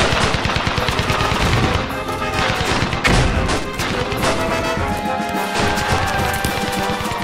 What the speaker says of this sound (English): the Allied advance is assaulted by heavy machine gun and artillery fire